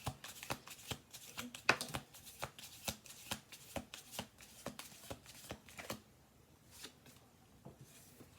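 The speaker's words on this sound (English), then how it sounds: "We're going to do one more shuffle." Tarot cards being shuffled close by, a rapid series of crisp riffling bursts in a steady rhythm, pausing briefly near the end.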